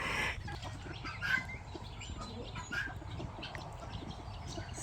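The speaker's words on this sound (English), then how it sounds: "our bantams live in their own little paradise, totally protected, next to the quails" Bantam chickens in a protected enclosure next to quails, clucking and calling softly at a moderate distance over steady outdoor background noise, with a brief louder cackle partway through.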